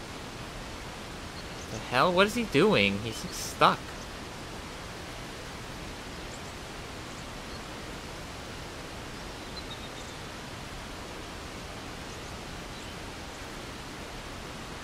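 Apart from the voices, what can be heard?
waterfall in the video game ICO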